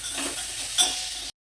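Tomatoes are added to a hot frying pan that has been roasting ingredients, giving a steady close sizzle with a couple of scraping stirs, no talking.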